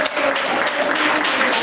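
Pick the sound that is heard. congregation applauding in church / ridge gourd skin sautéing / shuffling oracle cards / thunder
congregation applauding in church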